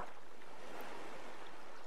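Ocean waves wash around a life raft adrift at sea in the survival video game Stranded Deep, a steady, soft broadband wash with no distinct breaking surges, heard alone.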